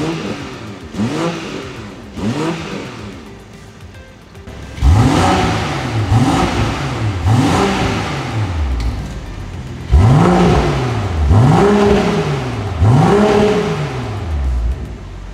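BMW G22 M440i fitted with a Remus sport exhaust, revved repeatedly while stationary; several sharp throttle blips rise and fall, followed by longer, louder revs with a deep, booming exhaust note, close and alone.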